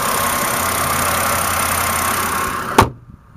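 A 2009 BMW 528i with a 3-liter engine idles smoothly, giving a steady even hum that runs nearly throughout, then a sharp door-like thump near the end before the sound drops away.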